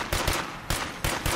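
Gunfire in State of Decay 2 comes as repeated close, loud shots in quick rhythm, about four distinct bangs within a second and a half, with no talking over them.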